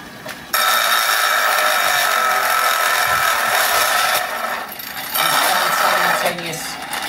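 Angle grinder working on steel, a loud steady high-pitched whine with grinding rasp, dropping briefly twice as the tool bogs and eases off before picking back up.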